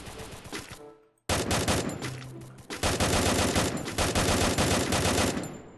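Rapid automatic gunfire from the Free Fire video game crackles in loud, close bursts, broken by a brief pause before resuming in a sustained volley.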